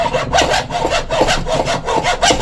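Hand sawing on a part for a Royal Enfield Classic 350 motorcycle, done left-handed: steady back-and-forth strokes, about four per second-long cycle, close and loud with no talk.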